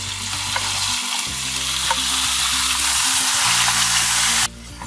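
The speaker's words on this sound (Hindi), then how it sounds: "अब ऑयल गर्म हो गया है तो सब्जियां डालते हैं" Vegetables are fried in hot oil for a chicken steak dish: a loud, dense, continuous sizzle with the soft scrape of stirring, close to the pan, stopping abruptly at the end, with no speech.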